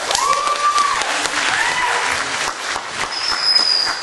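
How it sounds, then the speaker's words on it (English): An audience claps and cheers in a full, sustained round of applause, with a few whistles cutting through the crowd noise. "put your hands together, if you will, in a clapping order for Diraj Dal."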